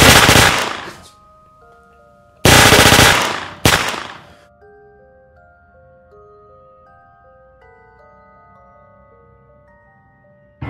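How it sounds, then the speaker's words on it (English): Short, loud bursts of machine gun fire from the video game Black Ops Zombies: three rapid volleys in quick succession, then a tinkling musical tone lingers afterwards. "Shoot it now."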